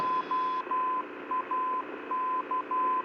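The Oakland VOR Morse code identifier plays as a steady mid-pitched tone in dashes and dots over a Cessna's aircraft radio, clear and repeating under a faint hiss.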